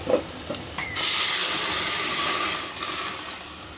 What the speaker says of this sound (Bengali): মূলার রসুন পেঁয়াজ পাঁচফোড়ন ডালটা বাগার দিয়ে দিই